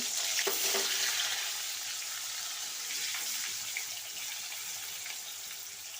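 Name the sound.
frying pumpkin pieces for khichuri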